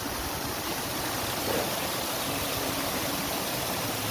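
Water rushing out through a closed lock gate on Piali Island in the Sundarbans: a steady, loud, broadband roar of flowing water, continuous and close, with no talk.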